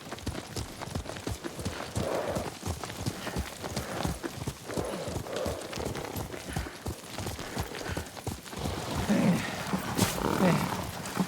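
Horse hooves clip-clopping at a steady riding pace, a dense rhythmic patter of close, clear hoofbeats continuing throughout with faint background noise.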